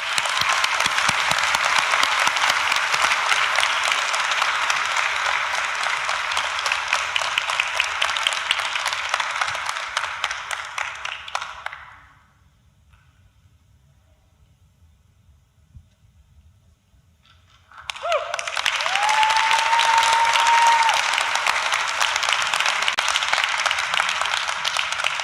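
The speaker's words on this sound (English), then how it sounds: "give a warm round of applause for JC Dominguez" A graduation crowd at a campus ceremony in Austin claps loudly and steadily, falls silent for a few seconds, then bursts into full applause again, with a faint whistle-like tone rising over the second burst.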